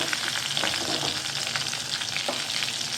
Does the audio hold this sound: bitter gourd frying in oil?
yes